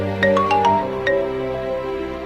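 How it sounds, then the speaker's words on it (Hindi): A mobile phone ringtone for an incoming call plays a short melodic pattern of bright electronic tones that repeat a few times at moderate volume, with no talking over it. "आ गया फोन उसका। उठाओ।"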